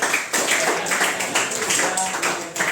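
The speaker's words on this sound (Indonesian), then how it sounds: "Tepuk tangan dulu untuk kelompok 3." Students in a classroom clap for a presenting group. The claps come in a rhythmic, fairly uniform pattern, moderately close and steady over a few seconds.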